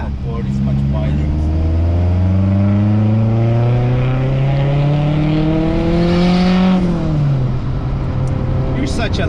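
A 1996 Honda Civic sedan engine revs up steadily, its pitch climbing for several seconds before dropping sharply as it shifts, loud and close.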